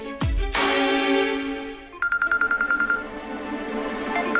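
A short electronic phone tone rings out, followed by a quick series of beeping pulses, clear and close with no talking.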